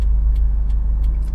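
A 2019 Subaru WRX STI engine idles at a stoplight with a steady, deep low rumble, close and continuous, with a few faint higher hisses over it.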